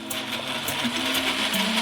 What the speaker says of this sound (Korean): 마지막으로 다 같이 갈아주세요.